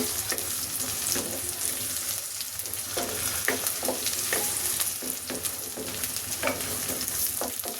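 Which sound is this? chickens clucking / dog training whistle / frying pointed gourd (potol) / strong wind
frying pointed gourd (potol)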